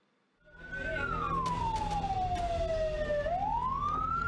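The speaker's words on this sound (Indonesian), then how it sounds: "Suara sirine pertanda bahaya terus terdengar." A disaster warning siren wails during an election-day disaster simulation at a polling station, rising in pitch, slowly falling, then rising again, loud and continuous outdoors with faint background clatter.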